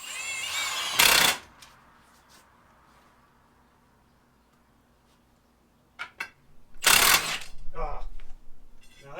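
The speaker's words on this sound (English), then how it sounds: "Now drill." A power drill bores a hole through wood in two short, loud, harsh bursts about six seconds apart, with quiet handling clatter and faint sounds between them.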